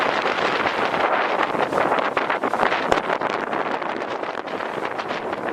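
Strong wind on a blustery day buffets an outdoor microphone near the water, a continuous loud roaring rush with gusty swells and no voices.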